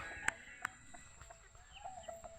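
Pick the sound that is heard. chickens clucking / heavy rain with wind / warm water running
chickens clucking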